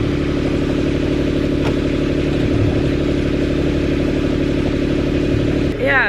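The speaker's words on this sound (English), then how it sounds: "We just started the engine and Huub is pulling up the anchor over there" A sailboat's engine idles at anchor in the early morning with a steady, close, low throbbing drone that runs unbroken throughout, and a brief shift in tone comes near the end.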